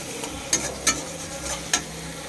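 Bengali masala cooking down in a pan: a soft, steady frying hiss with a few distinct spoon scrapes against the metal, close and fairly quiet, without speech.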